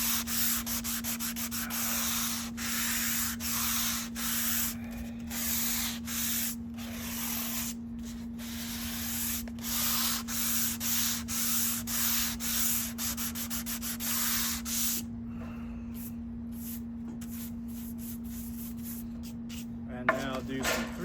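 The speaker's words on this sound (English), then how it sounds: "I'm taking some 220 grit and just sanding all the facets from my plane cuts." Continuous back-and-forth rasp of 220 grit sandpaper smoothing plane-cut facets on flamed maple guitar braces for a 7-string guitar back, close and steady in quick rhythmic strokes, with a constant electrical hum beneath.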